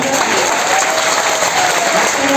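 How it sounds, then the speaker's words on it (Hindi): Loud, dense applause from an audience at a technical training event in Faridabad fills the space continuously, with no talking over it. "जोरदार ताली"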